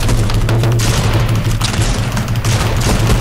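Rapid gunfire from a Roblox game booms in dense, continuous bursts, loud and close, with one volley running straight into the next.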